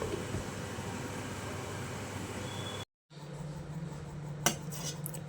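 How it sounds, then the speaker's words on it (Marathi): A metal lid is set on a pan of gulab jamun in syrup, giving a single close, bright clink after a short break in a steady low kitchen hum. "आता यावर झाकण ठेवूया"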